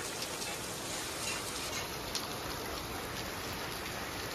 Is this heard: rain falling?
yes